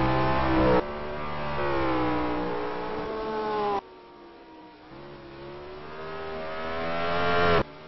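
A GT Masters race car in a pit stop, its engine droning and shifting in pitch with a sudden cut to quieter idling, then rising again, loud and close.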